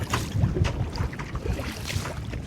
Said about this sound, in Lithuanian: Dabar vėl košia vėjas.